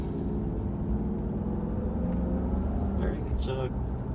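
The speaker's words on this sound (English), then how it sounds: "All right, so we test drive the Maserati" Steady low engine drone and road rumble from inside the cabin of a Maserati executive sports sedan on a test drive, a continuous smooth hum with a brief higher-pitched sound near the end.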